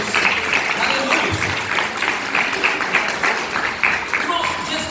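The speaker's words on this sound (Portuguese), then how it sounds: "Dê uma salva de palmas bem forte para Jesus" Church congregation applauding, a loud, continuous wash of many hands clapping with voices mixed in throughout.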